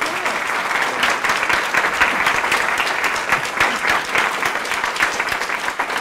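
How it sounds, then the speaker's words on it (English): A workplace audience gives a warm, sustained round of applause at an improvement-method report-out, many hands clapping steadily and close for several seconds. "we'll give you a big round of applause"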